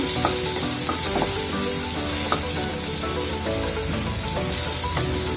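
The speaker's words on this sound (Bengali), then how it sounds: "পেঁয়াজটা দেওয়া হয়ে গেলে আমি একটু কিছুক্ষণ ভেজে নেব।" Onions fry in a pan for a beef brain dish, giving a constant loud sizzle with a bright crackling hiss and occasional spatula scrapes, close up and unbroken, with no voices.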